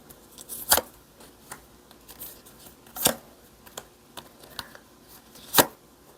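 Tarot cards drawn and snapped down during a reading, giving a few sharp, separate card slaps and flicks spaced several seconds apart with soft rustling in between, close and fairly loud, no talking.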